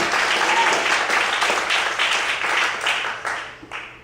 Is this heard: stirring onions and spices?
no